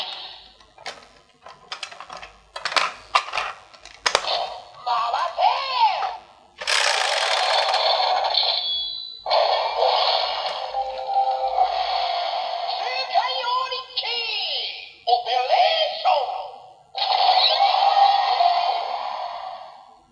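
Mechanical whirring and clicking from the gears of a DX Geardalinger toy, with bursts of buzzing motor sounds and electronic chimes, starting and stopping in uneven stretches.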